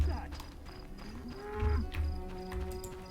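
A cow in The Witcher game lets out a low, drawn-out moo in the middle, set against a farmyard ambience with faint clopping and a murmuring voice under it.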